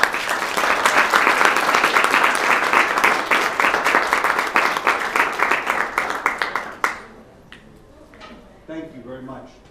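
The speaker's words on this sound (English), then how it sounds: "let's give him a big round of applause." Dense, loud audience applause welcomes an economics professor giving a university last-lecture talk, sustained for several seconds before cutting off abruptly into a quiet room with a faint voice.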